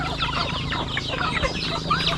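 A rooster and hens cluck continuously in a farmyard, a busy overlapping chorus of close, fairly loud fowl calls.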